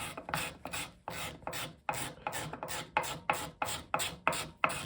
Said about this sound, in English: I can take the scraper and get the last of those marks out of there from the file.